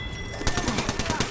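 Rapid bursts of gunfire in the video game Apex Legends, a quick run of evenly spaced shots at close range over steady background noise, with no talk over them.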